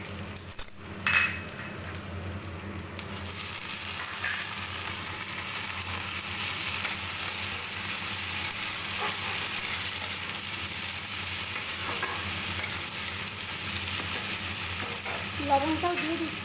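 Onion and tomato fry in a pan in a home kitchen, a constant close sizzle that opens with a clink of a utensil against the pan and carries occasional stirring and scraping throughout.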